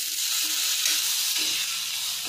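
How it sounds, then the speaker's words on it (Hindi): Potatoes land in a pan of frying onions with turmeric and green chillies and sizzle loudly, a dense, bright crackling hiss that stays steady and close throughout, with no talking. "अब डालेंगे आलू,"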